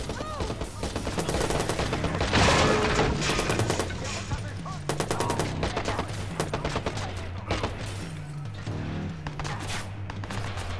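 Rapid bursts of automatic gunfire rattle loudly in a Watch Dogs shootout, with dense volleys of shots striking wooden planks and trailing echoes, while a voice talks intermittently over the firing.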